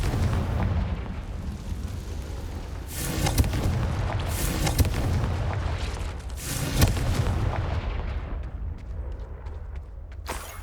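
Several loud, booming blasts from the Confringo fire spell in the video game Hogwarts Legacy, cast in quick succession over steady rumbling game ambience, with no talking.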